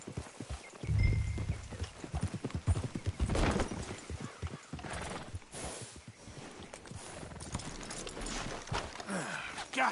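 Horse hooves clip-clop steadily at close range in Red Dead Redemption 2, with a horse's whinny rising briefly among the hoofbeats and a bit of background noise.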